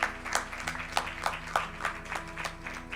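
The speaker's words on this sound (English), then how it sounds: "Let us give him a round of applause" A crowd applauds a fifteen-year-old boy on his birthday at an evening gathering during a Krishna Janmashtami celebration, with steady mixed clapping throughout at moderate volume and a low hum behind it.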